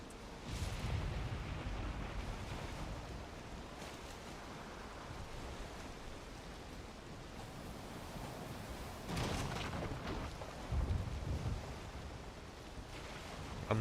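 A thunderstorm in the video game Valheim, with a dense wash of rain and wind-like noise at low volume and a few louder rumbling swells, no talk.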